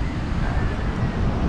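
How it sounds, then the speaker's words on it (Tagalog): Strong wind roars steadily across an open microphone at sea during a storm, near moored boats, with a low rumble of waves or surf underneath. "Sobrang lakas po ng hangin."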